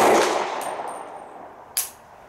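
A single 300 Blackout pistol shot cracks loudly at close range and rings out, followed by a short metallic clank from the action under a fading tail.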